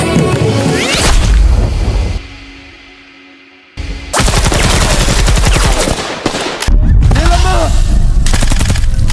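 Rapid bursts of gunfire and impacts from an Indian action film, loud and dense, broken by a short near-silent pause, with whooshes and voices mixed in.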